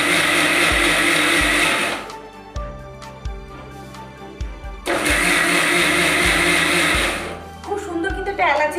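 An electric blender mixes powdered milk for kheer, running loud and close in two long whirring bursts with a pause between, then cutting off briefly again near the end.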